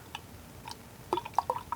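Goose Island Bourbon County Cherry Wood stout is poured into a glass, with sparse drips and then a quicker run of liquid splashes and glugs, quiet and close, no talk.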